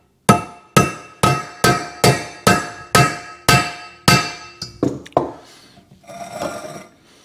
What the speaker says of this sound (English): put some roller bearings in a crankcase for the reamer to pilot on